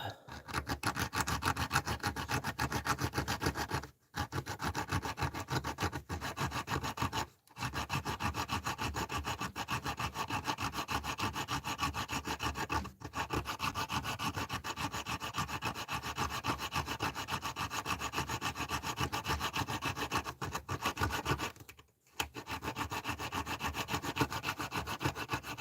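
A diamond wire saw grinds through a lock in a continuous, loud rasping drone, with the sawing pausing briefly a few times before resuming.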